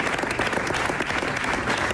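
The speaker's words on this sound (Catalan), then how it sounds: "Aplaudiments espontanis." A spontaneous round of applause breaks out among staff in a Valencian broadcaster's building at its shutdown, a dense, continuous clatter of many hands at steady volume.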